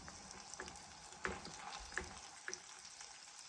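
Fish fillets for tacos fry quietly in a pan with a faint, steady sizzle and a few small pops and spatters, with no one talking.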